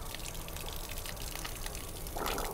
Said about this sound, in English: your goal is to just spray around inside the RV tank and get that nasty white stuff out of there